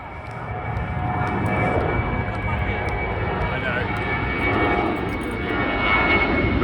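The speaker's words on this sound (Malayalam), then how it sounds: "ദേ അടുത്ത ടേക്ക് ഓഫ് ചെയ്ത് വരുന്നുണ്ട്" A British Airways jet takes off at Heathrow with a steady, loud engine roar throughout, while people talk over it.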